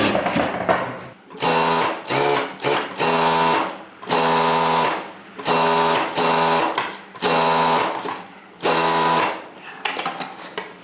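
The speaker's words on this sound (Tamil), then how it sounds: "இதில் அதே மாதிரி தையல் போட்டுருவோம்" A sewing machine stitching blouse fabric runs in six or seven steady, loud bursts of a couple of seconds each, its fast mechanical whir separated by short pauses, with no talking.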